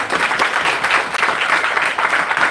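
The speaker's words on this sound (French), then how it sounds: "Applaudissons pour le frère Achille." Dense applause from an audience for a brother at a gathering, steady and loud throughout with a brief dip in the middle, no talk on top.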